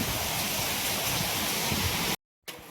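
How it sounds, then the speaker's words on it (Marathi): Heavy monsoon rain driven by strong wind, a dense continuous roar close to the microphone that cuts out briefly near the end before resuming. "पाऊस बघा तुम्ही."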